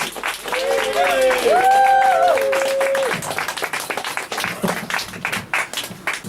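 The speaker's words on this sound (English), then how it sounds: "Give me some clapping, give me some wooings." A festival crowd at an outdoor comedy show claps steadily and lets out whoops and cheers to welcome a comedian to the stage. The cheering rises early, then settles into continuous applause with voices underneath.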